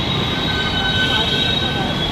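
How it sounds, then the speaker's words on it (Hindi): A metro train rolls into a station with a steady, loud rumble and a high metallic wheel whine held throughout, the noise constant rather than building or fading. "आ चुकी है मेट्रो हमारी"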